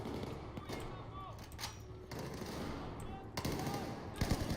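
Gunfire in Battlefield 4 as a squad lays down suppressing fire, with bursts of automatic shots and sharp cracks scattered across the clip amid game noise.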